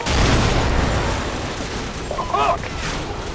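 Bursts of gunfire in a shooter video game, loud and continuous across the moment, layered over dense game noise with a short voice-like tonal call partway through.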